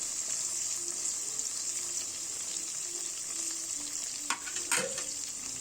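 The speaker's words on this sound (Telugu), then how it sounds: "2 రెబ్బల కరివేపాకుని కూడా వేసుకోవాలండి. దాన్ని కూడా ఫ్రై కానివ్వండి." Curry leaves frying in oil over a medium flame for egg fried rice, a steady close hiss of sizzling with a couple of brief clatters from stirring near the end.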